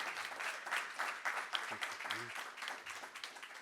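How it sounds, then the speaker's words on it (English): Warm applause for drummer Don Lauren Johnson at an event on African American burial grounds, steady and sustained but fairly quiet and distant, with a few low voices murmuring beneath it. "please give another warm round of applause for our drummer, Mr. Don Lauren Johnson."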